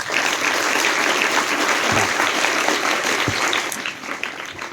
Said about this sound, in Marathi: मग टाळ्या नाही वाजवणार का तुम्ही